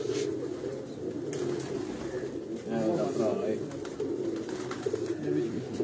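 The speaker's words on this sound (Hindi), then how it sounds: "ये भी उसी ब्रीड के कबूतर हैं चूं चूं।" Pigeons of a fancy breed coo steadily and close by, a soft throaty rolling that carries through the whole stretch with faint voices in the background.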